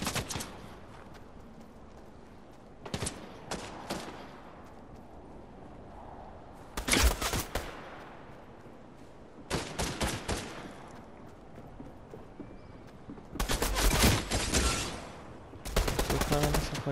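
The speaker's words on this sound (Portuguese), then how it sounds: "Onde que tá vindo esse monte de tiro?" Scattered bursts of rapid gunfire in Fortnite, several separate volleys with quiet gaps between, the later ones louder and longer.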